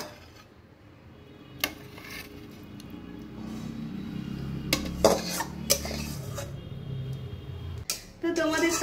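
Curry with yogurt and cashews is poured from a pan into a serving dish at home, with a steady low scraping and rubbing of the pan plus several sharp metallic clinks of cookware and utensils, close by.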